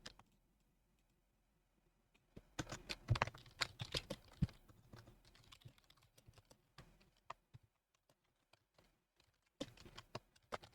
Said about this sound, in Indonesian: capek ya ngetik